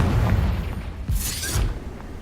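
Confringo explosion spell cast in the video game Hogwarts Legacy: a single bright blast erupting midway over a low, rumbling game background, with no voices.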